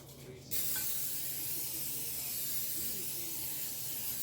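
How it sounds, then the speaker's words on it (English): A quick burst of Pam cooking spray hisses into a 13x9 baking pan, then a steady breathy hiss continues close by. "I'm going to take my 13x9 baking pan, spray it with a little Pam."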